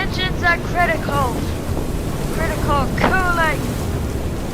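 In the video game Far: Changing Tides, a boat engine runs through a stormy sea, with constant wind and water noise and some bursts of tonal, voice-like sounds over the rumble.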